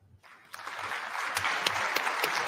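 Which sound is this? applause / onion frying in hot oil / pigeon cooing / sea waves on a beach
applause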